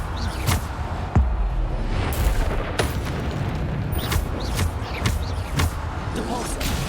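Bombarda explosion spells blasting during a hectic Hogwarts Legacy spell duel, a run of sharp booming bursts at irregular intervals over dense, continuous battle noise.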